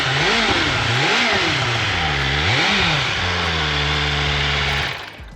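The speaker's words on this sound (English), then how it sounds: "So let you guys hear the stock engine real quick." Stock 2024 BMW M1000R Competition motorcycle engine revved hard up close, rising and falling in several sharp throttle blips before holding a high steady scream, then cutting off abruptly.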